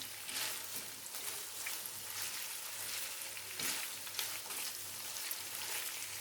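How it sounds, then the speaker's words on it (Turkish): Meatballs being stirred in a pan of sauce on the stove, giving a steady bubbling sizzle with soft scraping pulses of the spoon, close and continuous with no talking. "Karıştırın köftemizi."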